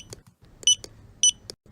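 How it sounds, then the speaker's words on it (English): Short electronic beeps from a library computer scanning books at the counter sound at irregular intervals, three bright tonal bleeps among softer clicks, close and clear without speech. "the computer beeps as the books slide across the counter"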